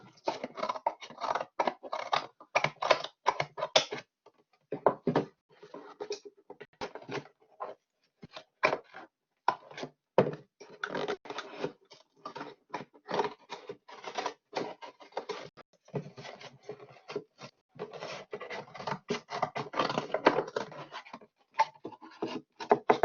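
Someone cuts the side piece of a homemade working-well model, producing a long series of sharp, close snipping and crunching clicks in uneven bursts with short pauses between them, and no speech.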